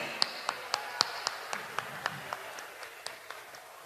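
Sparse, evenly spaced claps at a consortium draw assembly celebrating a winning quota holder: a small handful of people clapping in a slow, regular beat, fairly quiet in a room with faint background murmur.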